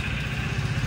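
A Hero Splendor motorcycle engine idles steadily up close, a continuous low chugging drone with no voices over it.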